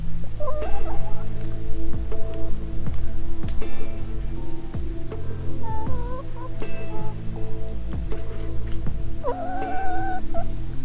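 Chickens clucking and squawking in short bursts close by, with an occasional higher call, over a steady background hum.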